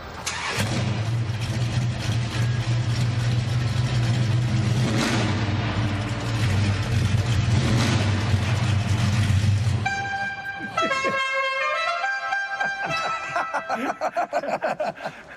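A classic car's engine roars loudly and continuously for several seconds, then gives way to a series of sharp horn-like tones near the end.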